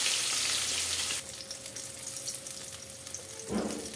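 Katla fish frying in hot oil in a kadai, with a loud, dense sizzle at first that settles into a steadier, softer crackle, followed by a brief clatter near the end.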